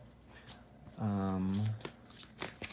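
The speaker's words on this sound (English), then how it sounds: "I don't know why I'm shuffling off camera right now" Tarot cards riffle-shuffled in one brisk, loud burst lasting under a second, with a person talking just before and after.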